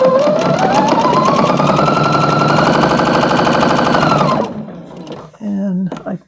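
A sewing machine stitching quilt pieces for flying geese blocks, running fast and close for about four seconds with a rising whine before stopping, followed by a short burst of talking.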